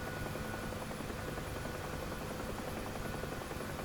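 UH-1H Huey helicopter gunship in DCS World, a continuous steady rotor and turbine drone throbbing evenly at a constant loud level throughout, no talking.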